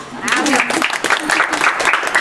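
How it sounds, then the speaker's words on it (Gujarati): Group clapping at a baby shower ceremony, a dense burst of hand claps that continues steadily, mixed with overlapping voices. "અરે છોકરાઓ તાળીઓ તો પાડો"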